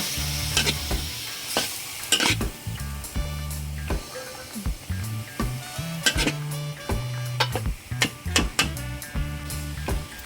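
Pork afritada with black beans and annatto is stirred in a sizzling pan, a steady frying hiss under repeated scraping and clinking of a utensil against the pan, loud and close with no talking.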